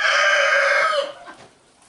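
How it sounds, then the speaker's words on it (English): A rooster crows loudly and close by in the morning, one long drawn-out call that fades at the end into faint background. "it's morning, so the roosters are raising holy hell"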